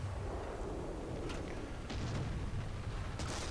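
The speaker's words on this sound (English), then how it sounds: "the enemy have called artillery in my area" Distant artillery fire in War Thunder ground battles, faint low booms and rumbling blasts rolling in the background with a couple of sharper cracks, no talking.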